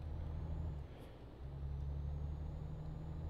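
A Volvo truck with 650 horsepower drives in Euro Truck Simulator 2, a steady low engine drone that dips briefly and returns, with a faint air-brake hiss, no talk.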